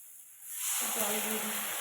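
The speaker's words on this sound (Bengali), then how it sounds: "জল দিয়ে দিচ্ছি।" Water is poured into a hot pan of bhola fish curry, setting off a sudden loud hiss that swells and then holds steady, close up, with no speech over it.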